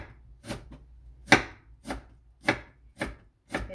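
A knife chops vegetables on a cutting board while ingredients are prepared for rice paper spring rolls, giving six or seven distinct, close thuds at an unhurried, slightly uneven pace; no talking.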